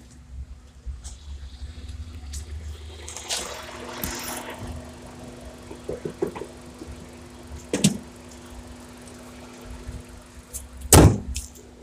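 Inside a Hyundai i20 fitted with CNG as it is readied for a test drive: scattered mechanical clicks, a ratcheting handbrake and a door thump over a low idle hum, with a loud sharp bang near the end.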